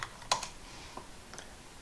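Someone types into the R console on a computer keyboard, giving a few faint, close keystroke clicks over quiet hiss.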